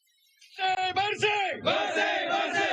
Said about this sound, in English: The crowd is starting to gather here at the esplanade, already a few hundred of them